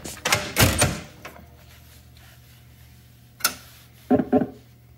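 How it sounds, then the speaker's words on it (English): A few sharp mechanical thuds and clunks of a Bally pinball machine's front door shutting, a cluster early on, then one more and a quick double knock near the end, with quiet room hum between. "now we can shut the front door"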